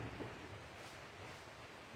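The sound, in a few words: rain with thunder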